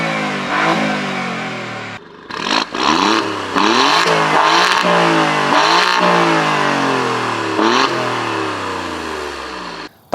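An Alfa Romeo Giulia Quadrifoglio's 2.9-litre twin-turbo V6 revs repeatedly, loud and close, with rising and falling engine pitch, brief gaps between blips and a sustained high rev near the end.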